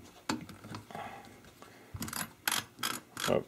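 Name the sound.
racking Mossberg 500 shotgun pump and undoing barrel knob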